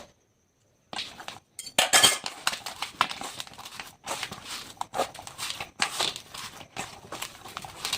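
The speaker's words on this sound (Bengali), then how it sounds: "এইভাবে আমি ফুলকপিটাকে নিয়ে মাখাতে থাকবো।" Grated cauliflower mixed by hand in a bowl for gobi paratha dough, giving soft crinkly squelches and light clinks that come in uneven bursts after a silent start, close and fairly quiet, with no talking.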